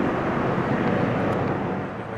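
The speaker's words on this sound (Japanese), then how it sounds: "一番でかいヘリコプター" A CH-53E Super Stallion heavy military helicopter passes near Kadena, giving a loud, broad, steady engine roar and rotor rumble that fades slightly at the end, with no speech.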